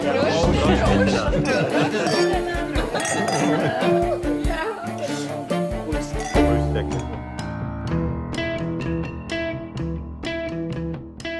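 Glasses clink together during a toast, with bright chinks rising over a lively group of people talking and laughing close by.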